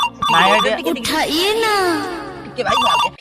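A mobile phone ringtone chimes in short bursts at the start and end, with a voice talking loudly between and over the rings, in an Odia comedy sketch.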